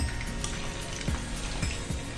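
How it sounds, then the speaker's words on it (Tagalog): Steady sizzling of milkfish belly frying in hot oil, a dense crackling hiss with occasional louder pops, close and continuous. "Ipiprito ko muna po ng konti ang aking belly bangus."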